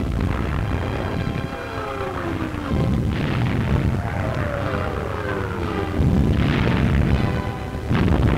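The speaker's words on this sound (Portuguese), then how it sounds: "Impactos de artilharia pesada inimiga." Heavy enemy artillery shells impacting in a wartime newsreel, a dense roar of repeated dull booms and rumbling over a constant aircraft-like drone, loud and continuous.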